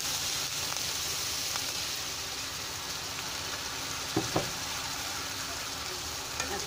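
A spice paste of garlic, cumin and ginger fries in a pan for a fish head curry with drumsticks and potatoes, giving a continuous soft sizzle with a few brief clinks from stirring.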